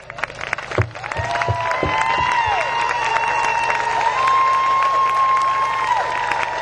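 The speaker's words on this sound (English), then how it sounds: "I want all of us to applaud every veteran" A large audience at a political rally applauds veterans with steady, sustained clapping and cheers, a few sharp thumps and whistles rising above the crowd noise.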